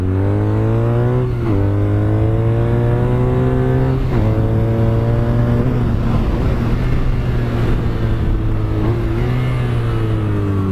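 A 2017 BMW R nineT motorcycle engine revs up repeatedly, pitch climbing through several gear shifts with brief dips between, close and continuous with no talking.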